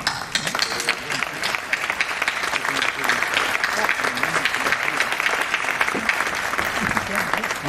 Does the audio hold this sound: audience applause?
yes